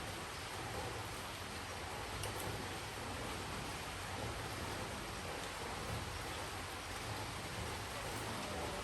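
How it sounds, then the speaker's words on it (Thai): Heavy rain from a passing storm pours down in a dense, constant roar, close and unbroken throughout, with no talking. "ฝนตกขัวเลยพี่น้องเลย"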